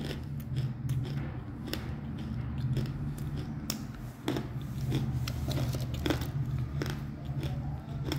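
A woman bites and chews crunchy food right at the mic, with steady, irregular crunches running throughout over a low background hum.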